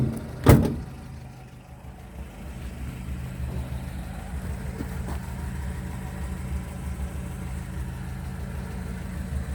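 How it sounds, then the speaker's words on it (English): A 1962 Ford Consul 375 engine idles steadily after a cold start, a low, even rumble that runs throughout after a brief sharp knock near the start, with no talking. "She's ticking over there lovely."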